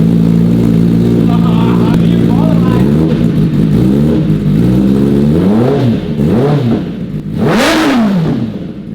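Kawasaki ZX10R sport motorcycle with a newly fitted aftermarket exhaust, revving loud and close: a steady idle rumble breaks into a series of rising and falling throttle blips, climbing to a sharp high rev near the end.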